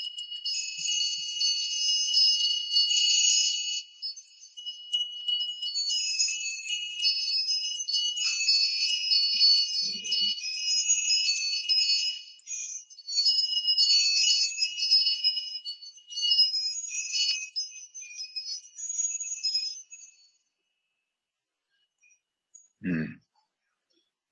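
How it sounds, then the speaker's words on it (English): Small meditation bells rung in Finland, a bright sustained high ringing that shimmers and overlaps for about twenty seconds before stopping, followed by near silence with a brief low knock near the end. "So we will ring you bells here from Finland."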